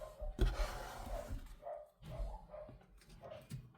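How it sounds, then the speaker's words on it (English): Dogs next door bark excitedly in a row of muffled, fairly distant woofs with a few yips, heard alone and indoors through walls. "next door's dogs are really excited"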